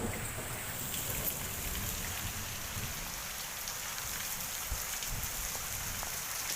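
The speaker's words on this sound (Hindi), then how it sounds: "और इतनी तेज़ बारिश पड़ रही है।" Heavy rain pours steadily onto a village courtyard in Uttarakhand, a dense, constant hiss of drops hitting the ground and surfaces, close and unbroken with no voices.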